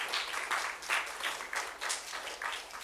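An outdoor summer solstice celebration audience applauding, the clapping coming in rhythmic surging bursts at a moderate, slightly distant level.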